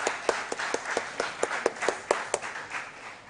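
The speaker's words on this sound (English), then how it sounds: "Another round of applause." A small studio audience at a school quiz competition claps in a brisk, fairly even rhythm of separate hand claps, moderately close, with no voices over it.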